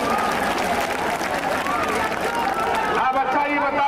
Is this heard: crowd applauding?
yes